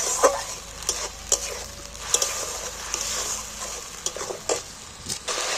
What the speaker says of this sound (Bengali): এইটাকে এবার ভালো করে কষিয়ে নেব, যাতে টমেটোর কাঁচা গন্ধটা